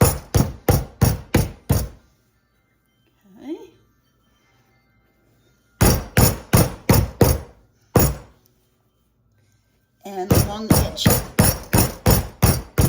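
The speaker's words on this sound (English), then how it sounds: "I just wanna pound it down," A meat tenderizer pounds pork on a board in several rapid bursts of sharp, loud thuds, with short pauses between runs; someone speaks briefly during a quiet gap.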